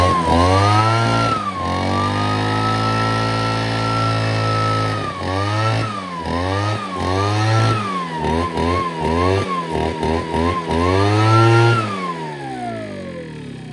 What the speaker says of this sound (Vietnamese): em nổ máy lên em nghe tiếng máy biết rồi đó